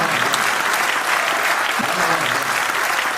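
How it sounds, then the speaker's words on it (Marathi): An audience at a Marathi poetry recital claps steadily and densely for the whole stretch, loud and close, with a faint murmur of voices underneath. "ज्याला ज्याला बायको आहे त्यांनी टाळ्या वाजवा"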